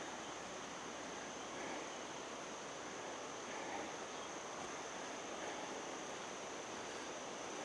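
A river rushes steadily below an overlook at Musgrove Mill State Historic Site near Clinton, South Carolina, heard as an even, faint, continuous wash of water with no voices.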